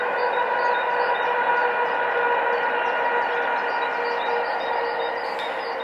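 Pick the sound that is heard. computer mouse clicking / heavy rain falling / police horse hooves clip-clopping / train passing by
train passing by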